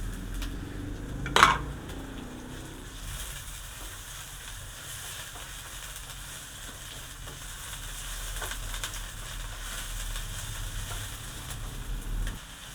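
Chopped onions sautéing with garlic in a pan, giving a low, steady sizzle throughout. One sharp clatter of a utensil on the pan comes early, and the sizzle stays close and moderately quiet with no talking.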